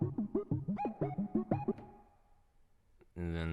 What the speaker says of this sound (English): Because that syncopation in the synth. This is the 98 synth.